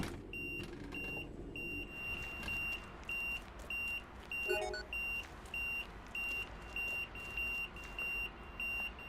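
A fire alarm in the train simulation game Train Sim World 6, beeping in regular short pulses at a steady rhythm over a low vehicle rumble, repeating throughout.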